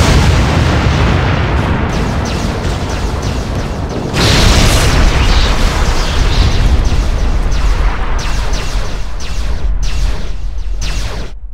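A starship blows apart in the Star Trek Bridge Commander space combat game, a loud, sustained roar of rumbling explosive bursts that swells sharply midway and crackles on without pause.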